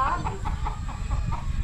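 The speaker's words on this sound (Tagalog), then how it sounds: "Bastos itong manok ni Gardo Versusa" A chicken clucks in a quick series of short notes, close and fairly loud over low background rumble.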